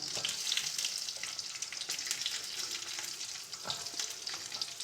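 Shallots and garlic sauté in a hot pan for a Tamil vanjaram fish fry, giving a steady, close crackling sizzle with a few stirring scrapes and no voices.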